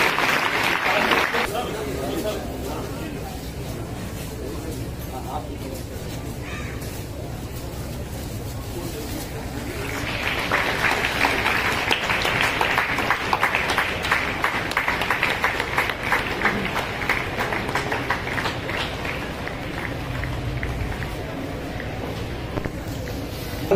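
Audience applause at a wushu championship medal ceremony for a junior bronze medalist, a crowd clapping steadily at moderate distance that swells louder in the second half, with a speaking voice and background chatter at times.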